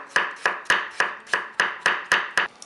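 Ten crisp knife strokes in a steady rhythm, each a sharp chop against a cutting board as potatoes are sliced thinly, close and clear with no talking.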